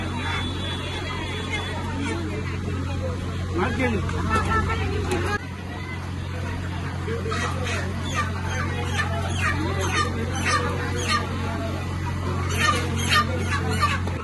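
Chickens clucking at a poultry stall near Aarathi Ukkada temple, a continuous close chorus of clucks and squawks over a low hum, with people talking and murmuring in the background.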